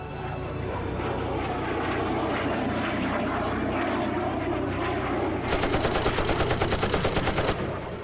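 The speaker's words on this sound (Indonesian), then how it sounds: "suara desing tembakan seperti mitraliur dari pesawat tempur mengenai kursi" A propeller fighter plane's engine roars steadily, then a fast, rhythmic machine-gun burst rattles loudly over it for about two seconds.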